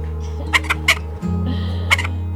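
Backyard chickens in a small flock give a few short, close clucks in separate bursts over a steady low hum, with no talking.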